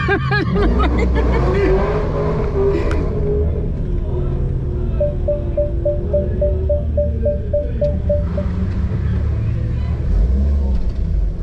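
A VW Mk8 Golf R's engine roars loud and close on the Goodwood Motor Circuit, a steady heavy drone with a revving rise early on and a repeating beeping chime partway through.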